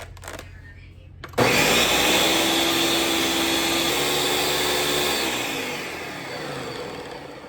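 A kitchen blender churns cream into butter, kicking on abruptly after a brief quieter moment and then running as a loud, steady whirring motor drone that gradually eases slightly toward the end.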